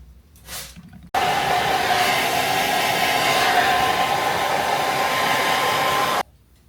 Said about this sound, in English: because I rinsed my hair, everything is absolutely wet, so I had to blow dry it first